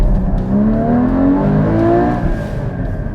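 A Porsche Cayman GT4 engine is revved at full throttle, its tone rising smoothly and loudly from close by, then easing off near the end, with no voices heard.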